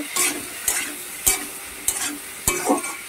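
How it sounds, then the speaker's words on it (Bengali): Ground spices, coriander powder among them, fry together in hot oil with a soft sizzle. A spoon strikes and scrapes the pan at regular intervals, close and clear. "আর সব মশলাগুলোকে একসঙ্গে ভেজে নেব।"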